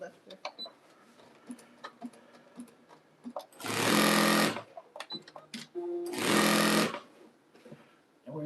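Two loud bursts of a sewing machine stitching a jelly roll rug, each running about a second or more at full speed, with quieter clicks and handling noises and talk between them.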